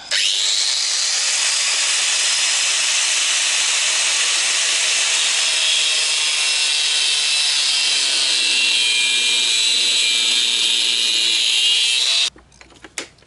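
A power tool cuts a small piece of scrap sheet metal for a Citroën Traction 11B rear window repair, giving a loud, continuous high-pitched grinding whine for about twelve seconds before abruptly stopping, followed by a few light knocks.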